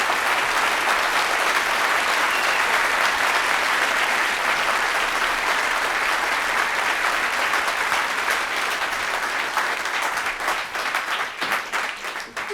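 Steady, dense applause from a large concert audience for the band members fills the whole stretch, loud and continuous, thinning slightly toward the end.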